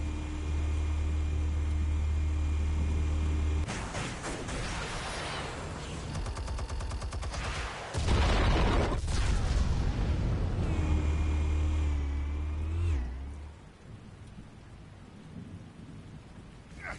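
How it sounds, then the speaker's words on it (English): Explosives fired in the Batman Telltale video game: a deep rumbling blast around the eighth second, amid continuous loud game sound with crackling, rain-like noise and low booms, no speech. "Explosives armed. Fire when ready."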